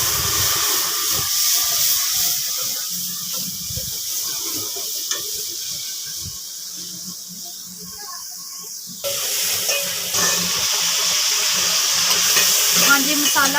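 Spices and browned onions sizzle and fry steadily in a pan for an aloo gobi curry, a continuous loud hiss with stirring scrapes, shifting in texture partway through.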